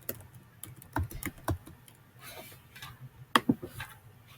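Light typing on a computer keyboard, a handful of soft, irregular key clicks close by in a quiet room.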